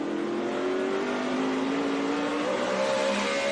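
NASCAR stock car engine at the 2012 Goody's Fast Relief 500, holding a steady high-pitched roar around 9,500 rpm with slowly shifting tone, loud and continuous with no talk.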